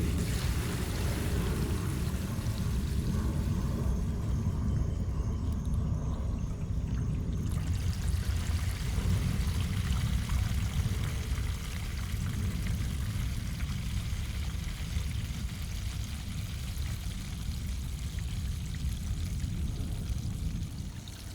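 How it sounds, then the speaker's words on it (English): An RV black water tank drains through an opened gate valve, a steady loud rushing pour of water running continuously and close for about twenty seconds with no talk. "pull the gate valve to open it up, which I'm going to do now, and it'll all flow out of there"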